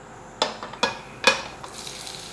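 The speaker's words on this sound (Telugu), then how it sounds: "జీలకర్ర, కొంచెం జీలకర్ర, కొంచెం అది ఫ్రై అయ్యాక అన్నీ వేద్దాం." Cumin seeds hitting hot oil in a pan while jowar pongal is made: three sharp sizzling bursts in quick succession, each fading into a soft, steady frying hiss, close and fairly loud.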